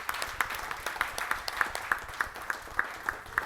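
An audience at a gallery event at Avalon Island claps in a sparse, uneven patter, with scattered louder hand claps standing out above a soft room murmur.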